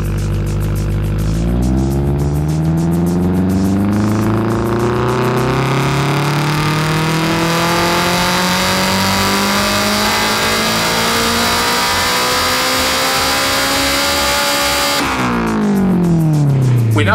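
A car engine on a dyno pulls a long wide-open run, its loud tone climbing steadily for about thirteen seconds before it snaps off the throttle and drops back to idle.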